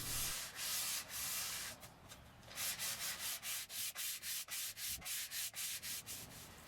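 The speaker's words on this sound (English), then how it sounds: "lightly hand sand with 220 grit sandpaper" Wood hand-sanded with 220 grit sandpaper, a loud, close rasping scrub that begins in long strokes and then settles into quicker, even back-and-forth passes.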